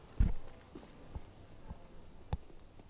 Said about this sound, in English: Keto hearing those footsteps